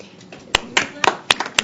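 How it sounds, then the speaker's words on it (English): A few scattered claps from attendees at a consumer advisory committee meeting, sparse sharp hand slaps spread over under two seconds, close and fairly light rather than a full round. "Let's clap for everyone."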